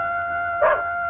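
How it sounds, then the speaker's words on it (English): A dog gives a single short bark at night, brief and moderately close, over a steady tonal hum. "That terrible dog. He always barks when the old man stays up at night."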